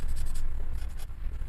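Pastel pencil scratching steadily across paper while colouring a bright background, a close, continuous dry scraping with rhythmic strokes and no talk.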